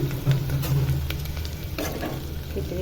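Onions frying in a pan for khichdi, a steady sizzle with scraping strokes of a spoon stirring them, close and fairly loud, with no one speaking.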